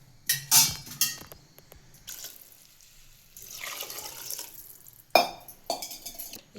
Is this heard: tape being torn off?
no